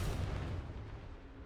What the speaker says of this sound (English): Next up is the rocket launcher.